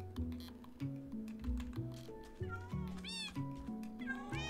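Several cat meows from Minecraft mobs rise out of a busy game soundscape with background music and effects, the mewing calls coming in short bursts near the middle and end.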